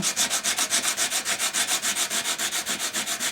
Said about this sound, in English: just around here, where it's the right type of wood, I create some sawdust